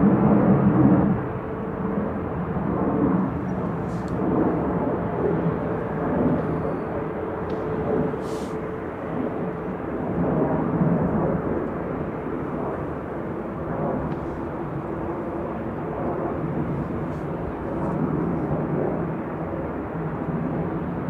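A Ryanair airliner flying a missed approach at Manchester Airport produces a continuous, heavy engine rumble with slowly swelling and easing rough roar, sustained across the whole stretch with no speech.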